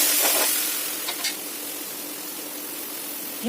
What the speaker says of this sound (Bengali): ফোড়ন দেওয়ার পর প্রথমে আমরা এর মধ্যে দিয়ে দিব হলো জিরে আর লঙ্কা বাটা